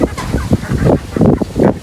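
Chickens cluck and squawk up close in a rapid, agitated series of calls, loud and continuous.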